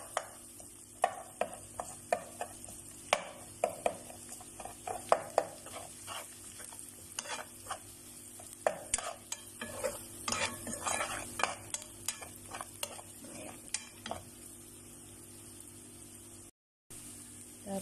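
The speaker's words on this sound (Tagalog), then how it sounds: "haluin lang po natin" Bitter gourd with egg stirred in a pan, with a long run of quick, close spatula scrapes and clacks over a low sizzle, easing off toward the end.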